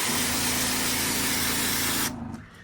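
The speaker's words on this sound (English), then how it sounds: "Our spray nozzle." A spray nozzle hisses continuously against a mini split coil caked with years of grime, a loud, steady jet that cuts off sharply near the end.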